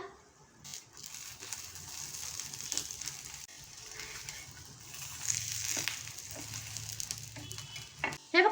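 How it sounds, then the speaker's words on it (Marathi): A homemade veg potato frankie wrap roasts in a pan over low gas until crisp on both sides, making a soft, continuous sizzle and crackle with occasional louder pops and scrapes near the end. "मंद गॅसवरती छान असं दोन्ही बाजूने क्रिस्पी होईपर्यंत आपल्याला शेकून घ्यायचं आहे"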